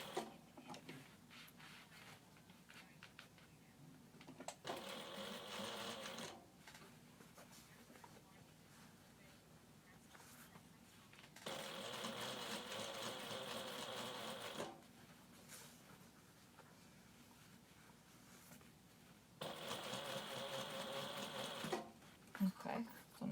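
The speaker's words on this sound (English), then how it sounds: "Okay, show you the top stitching. Do you see the top stitching? That's why I go slow." A sewing machine top stitching a clutch bag runs slowly in three separate bursts of steady, even stitching, each a few seconds long, with quieter pauses between and a voice talking in the background throughout.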